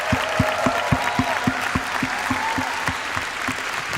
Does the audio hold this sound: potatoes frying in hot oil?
no